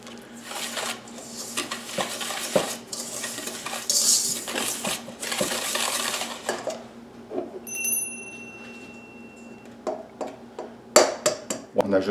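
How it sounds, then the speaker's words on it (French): Butter being creamed with sugar in a bowl for a maple pudding chômeur, with close clattering utensil scrapes and knocks in uneven bursts, fading briefly midway before sharper clinks near the end. "On a besoin de crémer notre beurre"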